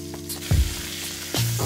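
Beef short ribs sear in a hot pan with a constant close sizzle, broken by two brief louder pops or scrapes as the meat is turned.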